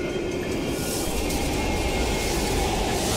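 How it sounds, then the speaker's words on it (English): A train rumbles past an abandoned underground station in Call of Duty: Black Ops Cold War, a loud, close, continuous roar with rattling wheels and no voices. "We can use a train to slip past."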